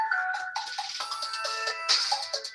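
A mobile phone rings with an incoming spam-risk call, a bright repeating electronic ringtone melody heard close and clear with no talking over it.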